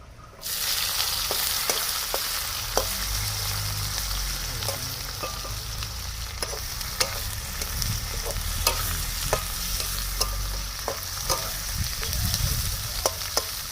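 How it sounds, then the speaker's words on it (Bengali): Onions sizzle steadily in hot oil in a pan, with spices like garam masala, bay leaf and dried chilli added, and occasional stirring clinks over a constant frying hiss, close and continuous with no talk. "ব্রাউন করে পেঁয়াজগুলো ভেজে নেবো"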